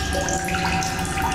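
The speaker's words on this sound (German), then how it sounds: "Trinke aus frischem Wasser." Fresh water is drunk in The Solus Project, heard as a brief, close, steady splashing flow like running tap water.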